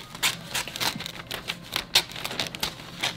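Scissors snipping through Christmas wrapping paper, a quick series of crisp cuts and paper rustles close up, with no talking.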